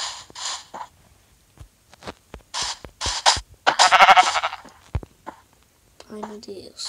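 Sheep in the Minecraft video game bleat in short bursts mixed with clicks and game effects, while a person talks intermittently.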